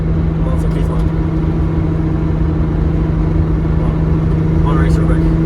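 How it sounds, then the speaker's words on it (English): A VW VR6 engine drones steadily at cruising speed on the Autobahn, heard from inside the car as a loud constant hum with road noise; people talk briefly over it. "God, car sounds amazing."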